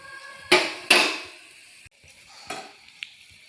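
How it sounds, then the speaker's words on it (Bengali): An egg omelette browns on its underside in a pan, with two sharp clatters of a utensil against the pan up close, then softer scrapes and knocks over a faint background. "একইভাবে নিচের দিকটা ভেজে নেব, তবে খেয়াল রাখবো যাতে নিচের দিকটা এইভাবে না পুড়ে যায়।"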